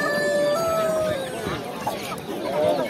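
Chickens and roosters at the Sabuncu poultry market, a busy bird noise with clucks and a crow-like call rising over crowd murmur and background voices throughout.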